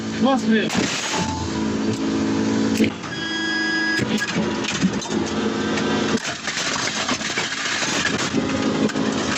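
A heavy tank cannon blast booms loudly, followed by rumbling echoes and clanking mechanical noise, with a droning engine running throughout.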